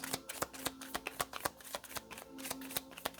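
Playing cards being shuffled up close, with a series of sharp rhythmic snaps and riffles about every quarter second. The sound is soft overall, and no one speaks.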